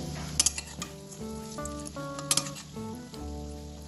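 Pointed gourd leaf pakoras sizzle and crackle in hot oil, with a few sharp clinks of a utensil against the pan.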